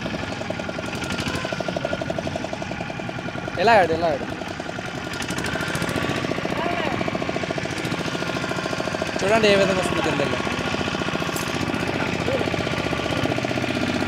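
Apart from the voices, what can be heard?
fishing boat engine starting and running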